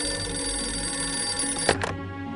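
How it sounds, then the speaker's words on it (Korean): A telephone bell rings loudly and continuously in a Korean audio drama of the Arsène Lupin and Sherlock Holmes story, a bright metallic trill heard alone, with one brief knock or click before the ringing cuts off abruptly. "전화를 받아보시죠"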